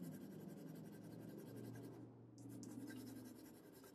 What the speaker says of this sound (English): I'm using the flat of the 4B pencil